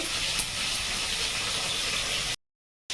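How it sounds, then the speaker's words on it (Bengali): Garlic frying in a pan until lightly browned sends up a steady, close hiss and sizzle that holds evenly, then cuts off abruptly for a moment near the end before briefly returning. "রসুনটা হালকা হালকা ব্রাউন কালার হবে ততক্ষণ আমি ভাজতে থাকবো"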